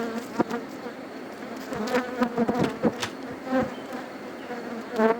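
Honey bees buzz densely around an open hive during a late hive inspection in May, a steady, close, droning hum with individual insects whizzing past.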